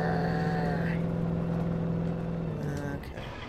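A car's engine drones loud and steady while it spins donuts in Alan Wake Remastered, its pitch holding, then shifting and dropping away near the end.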